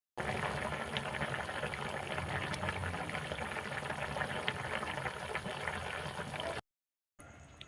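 Chicken curry with sour yogurt and water bubbling on a high flame, a steady close boiling and simmering hiss that runs on alone, then cuts off briefly near the end.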